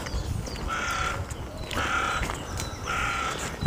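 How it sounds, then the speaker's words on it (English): A crow caws beside a canal, three harsh evenly spaced calls over steady outdoor ambience and low rumble. "Crow"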